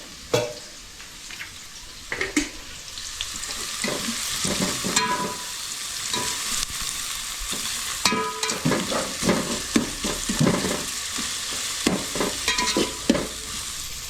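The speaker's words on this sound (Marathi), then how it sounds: "तोपर्यंत कांदा करपवून घेऊयात" Onions fry on high heat until browned in a pot over a wood-fired stove, a constant sizzle punctuated by frequent scraping strokes of a spatula, close and fairly loud, with no speech.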